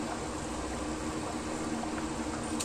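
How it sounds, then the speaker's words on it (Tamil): Salai fish gravy with mango bubbles at a steady boil in an open pot, a continuous soft hissing and gentle bubbling close by, alone without voices. "இப்போ நம்ம குழம்பு திறந்து பார்ப்போம். நல்லா கொதிக்குது."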